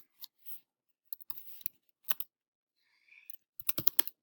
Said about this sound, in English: let me type that sentence down here